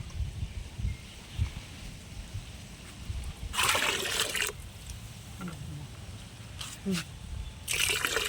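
Aloe vera and neem cake solution being poured, heard as splashy liquid bursts around the middle and again at the end, with faint trickles between, fairly close against a quiet background.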